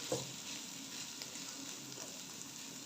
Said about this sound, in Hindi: तो अभी हम इसकी भुनाई करते हैं।